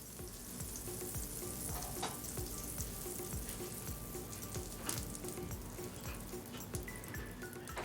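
Butter sizzles and crackles steadily in a pan for grilled cheese, a dense, close frying hiss with scattered pops throughout and no voices.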